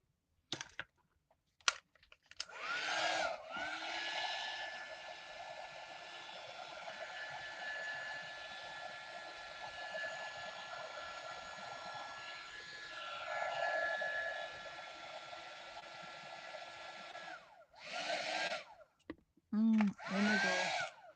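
Hair dryer blowing on a vintage junk journal page, a steady close whooshing hum that runs for about fifteen seconds between brief paper rustles and clicks at the start and end.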